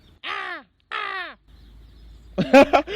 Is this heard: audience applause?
no